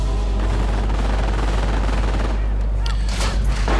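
Continuous machine gun fire rattles loudly through a Company of Heroes battle, a dense unbroken barrage with sharper bursts near the end.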